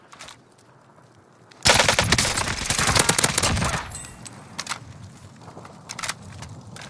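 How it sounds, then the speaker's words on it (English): Sudden loud, sustained automatic gunfire in Call of Duty: Modern Warfare bursts in after quiet ambience, rattling for about two seconds, then dropping to scattered shots and footsteps. "They're shooting at me, Herc."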